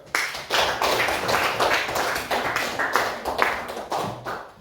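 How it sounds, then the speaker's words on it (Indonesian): Students in an Indonesian classroom clap for a classmate, a lively burst of many hands with uneven, rhythmic patters rising and falling close by for several seconds. "Tepuk tangan dulu buat Gogon"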